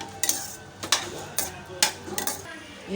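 A spoon scraping and clinking against a metal cooking pot in a steady stirring rhythm, about five strokes, stirring sambar powder into a dish, close by with a faint simmer underneath.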